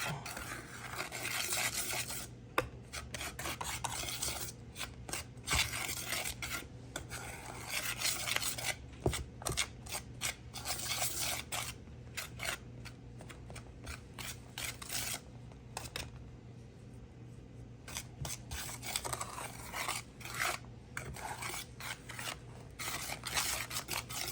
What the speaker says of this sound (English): we're just gonna take all this and mix it up